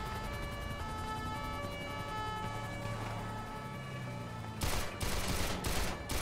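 Gunfire in GTA 5 during a police pursuit: a siren wails for several seconds, then a burst of loud, close shots cracks out in rapid succession.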